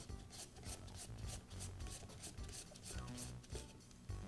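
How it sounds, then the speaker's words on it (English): A screwdriver works the brush cap off a Makita nibbler motor, making a close, steady rasping and scraping sound in quick repeated turns, low in level. "I'll use a screwdriver to remove the brush cap."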